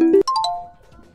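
An outgoing phone call ringing tone, with short electronic tones stepping down in pitch, loud and close, then fading away within about a second.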